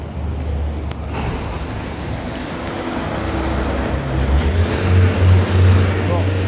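A bus passing on a city street, a heavy low engine rumble and traffic roar that builds louder toward the end, with people talking over it.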